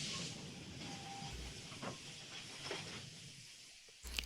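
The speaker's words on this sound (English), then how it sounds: "it lets out a roaring whistle that hurts my ears as an iron machine lets off steam and comes to a stop" A steam locomotive in the Code: Realize game slows to a halt at a dark platform, with a broad, steady hiss of venting steam that fills the clip and a faint whistle-like tone, ending in a sharp burst.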